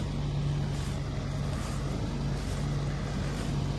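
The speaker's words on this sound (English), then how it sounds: "he's got the spearhead flail mower on. He's doing a nice job of cutting it all back down" John Deere 16120 tractor running a Spearhead flail mower, topping grass in a field: a steady, loud engine drone with a low hum and constant churning throughout, no pauses.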